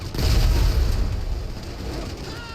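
A bomb explodes in an Iron Man video game, one loud deep boom that rolls off into a long low rumble, with no talking.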